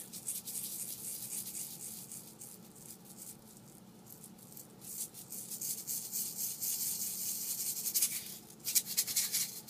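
An LP shaker turned onto its flat side, producing a soft, continuous rubbing and swishing rasp that swells and fades, close but quiet, with no talking.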